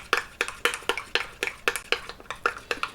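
A spoon clinks repeatedly against a pot while hot fudge and a pat of butter are mixed together, giving sharp, bright metallic taps in a quick irregular rhythm, close and without talk.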